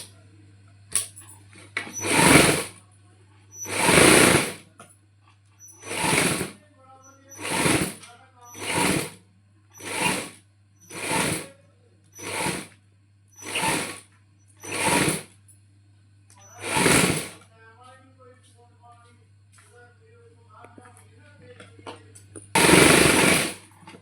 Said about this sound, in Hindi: फिर कपड़े उपर सिलाई लगा देंगे